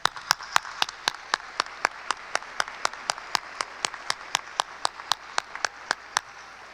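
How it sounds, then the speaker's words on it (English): Slow, evenly spaced claps, roughly three per second, ring out sharp and fairly close for graduates at a spring 2021 community college graduation ceremony, as though only one or a few people are clapping in a quiet hall. "I believe we owe them a generous round of applause"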